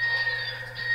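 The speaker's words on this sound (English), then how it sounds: "And of course it's gonna sound the alarm." Alarm blaring in the N64 shooter GoldenEye 007, a steady synthetic electronic tone held continuously over a low hum, loud and unbroken for the whole moment.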